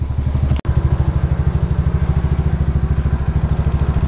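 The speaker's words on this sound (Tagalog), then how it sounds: "Painitin ko muna yung motor." A motorcycle engine idles while warming up at dusk in Baguio City, a steady close, loud thumping putter with a fast even rhythm and a brief sharp click early on, no talking over it.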